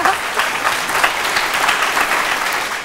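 Studio audience applauding during a Sinhala TikTok-themed TV show, a dense, steady wash of many hands clapping at full volume for about three seconds with no voices on top.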